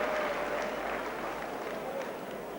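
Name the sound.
crowd applauding a rugby league kick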